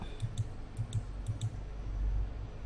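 Crisp mouse clicks come in quick pairs, three double-clicks in a row, close and clear over a faint low hum.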